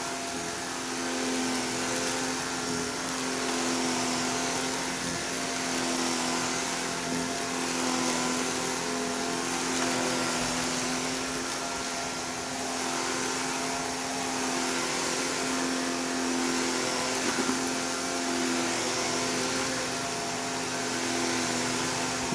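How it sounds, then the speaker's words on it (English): Vacuum cleaner, a secondhand Goodwill find, running continuously over carpet with a loud steady motor whine and airflow roar, pushed quickly back and forth with slight swells in level throughout. "Normally you're not supposed to vacuum this fast, but I'm not actually trying to clean."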